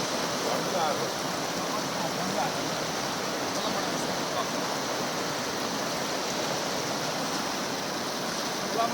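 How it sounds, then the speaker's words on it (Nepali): A steady, loud rush of a swollen monsoon river, a constant broadband roar of fast-flowing water with no pauses from start to finish. "रमाइलो छ खोला बर्खाको खोलामा"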